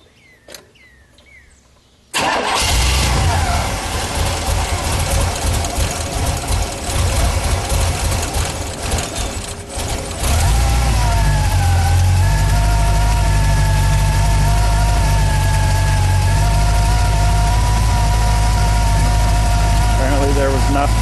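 A car engine fed by an electric fuel pump cranks briefly after quiet, catches and runs unevenly, then settles into a loud steady idle with low rumble and a whining tone, close by.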